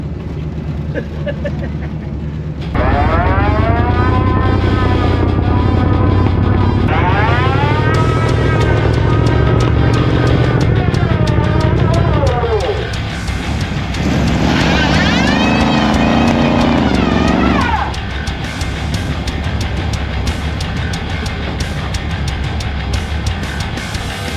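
A 1939 Chevy coupe custom's engine runs loudly nearby, revving up and down in rising and falling surges, then settling to a rough idle.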